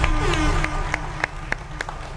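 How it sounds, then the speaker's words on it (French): Audience at a live show clapping in a scattered, uneven rhythm over a steady room murmur, with a few sharp claps standing out through the short burst. "please make some noise, applaudissez"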